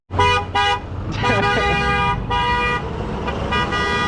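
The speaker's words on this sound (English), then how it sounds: "Why you honking, Mark?" A car horn honks in several close, loud bursts, two short toots followed by longer blasts, with engine and road noise underneath near a dump trailer pickup.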